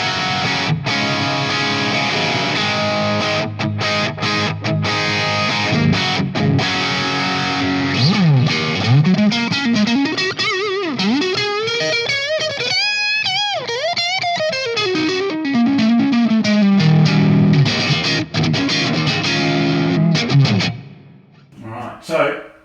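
An electric guitar plays through a Jet City JCA50H tube amp head fitted with a Headfirst DIY mod and set to crunch overdrive: loud, distorted chords and sustained bending notes with a swelling effect, ringing out, then dying away at the end.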